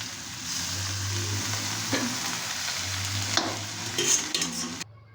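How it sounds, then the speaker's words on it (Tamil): Chopped greens tossed into a hot tempering pan sizzle and crackle steadily, with stirring scrapes and a few louder spatters near the end, close and moderately loud, no voices. "நம்ம தாளிப்பில் கீரையை போட்டோம்."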